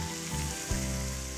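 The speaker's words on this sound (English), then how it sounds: "Listen to the sizzle." Speck sizzles steadily in hot olive oil in a pan, a loud, continuous frying hiss with a brief clatter of stirring partway through.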